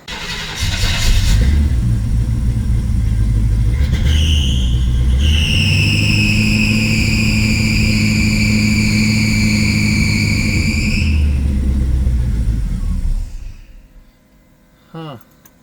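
A 1968 Chevy Camaro SS V8 cranks loudly and steadily on a cold start attempt, the starter grinding continuously for several seconds without the engine catching before it stops, leaving near silence.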